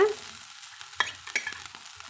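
Neem flowers fry in hot oil, making a soft, steady sizzle broken by light crackles and a couple of brief stirring scrapes.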